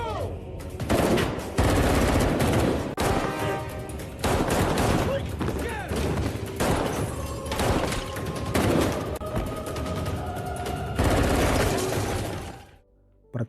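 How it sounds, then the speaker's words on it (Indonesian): Intense bursts of gunfire in a film shootout, rapid volleys and single loud shots in quick succession, with mechanical clatter between them, fading to quiet at the end. "Dia langsung lepas tembakan."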